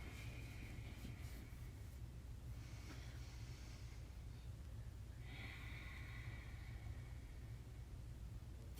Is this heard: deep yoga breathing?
yes